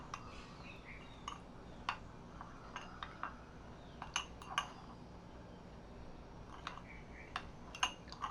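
Spoon clinks and scrapes against a bowl while asafoetida is mixed into a chilli pickle masala, faint scattered metallic ticks over a quiet background with no talk.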